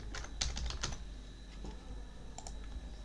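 Computer keyboard typing at a desk, a few quick bursts of crisp key clicks followed by a pause and a couple more taps, close and clear over a quiet background hum.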